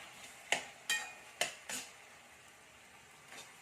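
A spoon stirs chopped tomato into minced pork in a pan, four distinct scraping clacks in the first two seconds over a quiet simmer, then a softer final knock.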